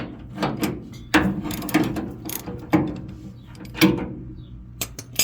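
A ratchet wrench backs a nut splitter off a split nut, giving a string of sharp, close clicks in uneven bursts with short pauses between strokes.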